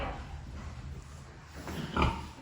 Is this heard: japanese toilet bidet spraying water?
no